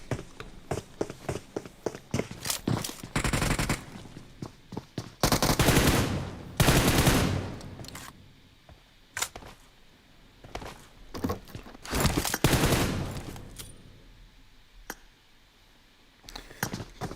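Bursts of automatic gunfire in a PUBG Mobile tournament match as a player pre-fires an angle near stairs, with rapid overlapping volleys, sustained sprays and scattered single shots, mixed with clicks and footsteps.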